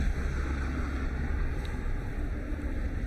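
Gusty crosswind of 18 to 20 knots at Dublin Airport roars steadily into the microphone, a continuous broad rushing noise with no speech.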